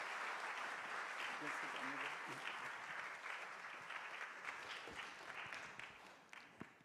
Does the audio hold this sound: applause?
yes